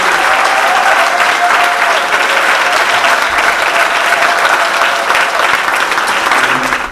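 A large outdoor crowd at a 2023 International Women's Day celebration in Lualaba applauds and cheers loudly and continuously, a dense wash of clapping with no break.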